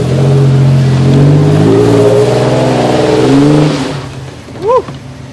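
An off-road vehicle with a locker climbs a mud hill under hard throttle, its engine loud, close and revving with rising and falling pitch before easing off near the end.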